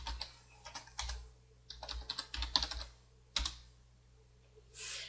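Typing on a computer keyboard to enter a DOSBox server start command for multiplayer Doom: irregular bursts of close, crisp key clicks with short pauses and a final longer clatter.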